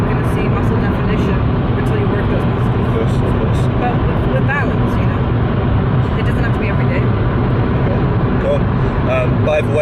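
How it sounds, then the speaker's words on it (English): Inside a moving car, a loud, constant road and engine rumble fills the cabin while people talk over it throughout. "we are in a car and it's pretty loud in here"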